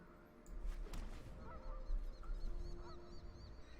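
Goose honking in the Magic: The Gathering video game, a few quiet nasal honks over a soft, noisy background.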